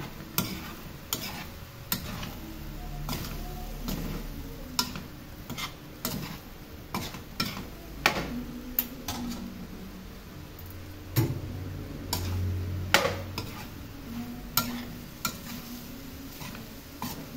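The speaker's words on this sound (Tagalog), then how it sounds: "Haluin natin ulit mga loves." A spoon stirs food in a cooking pot, making repeated ticking scrapes against the metal at an uneven rhythm over a faint, low sizzle.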